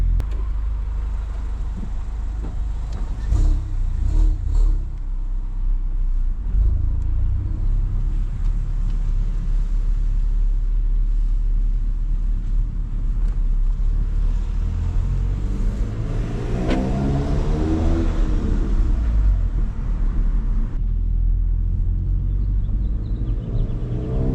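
Engine and exhaust of a 2022 Stage 2 Mk8 VW GTI with the resonator deleted, a deep steady rumble from inside the car that swells into a rising rev sweep near the end before easing back.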